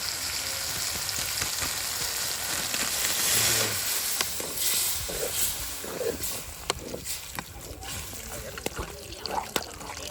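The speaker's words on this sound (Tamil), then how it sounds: "தக்காளி வெங்காயம் கொஞ்சம் நல்லா வதங்கிட்டு இப்போ வந்து மட்டன் பொடி போட்டுக்கலாம்" Chopped tomato and onion sautéing in a pan at night, a steady soft sizzle with occasional stirring clicks and scrapes, while a person talks quietly over the cooking.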